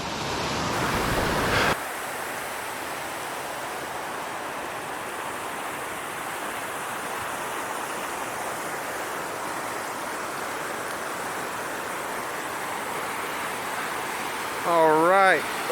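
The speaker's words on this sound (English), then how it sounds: "is Final Falls here at the bottom of Fall Creek Falls" Final Falls at the bottom of Fall Creek Falls rushes steadily, a broad continuous roar of falling water heard alone at a moderate distance, with a brief clunk at the start and a short voice at the end.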